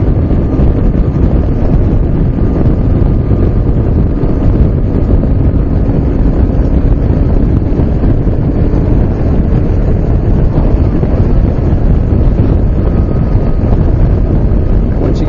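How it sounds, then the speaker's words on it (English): Loud, constant wind buffeting the microphone during a motorcycle ride on open roads, a dense low roar without pause throughout, masking any engine sound. "It is a bit windy out here."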